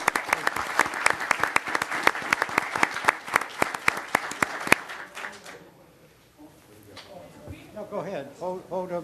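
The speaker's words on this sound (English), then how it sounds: "Let's hear another round of applause for these athletes." At a city council meeting an audience gives a round of applause for athletes, sharp, rhythmic clapping that fades after about five seconds into murmuring and talk.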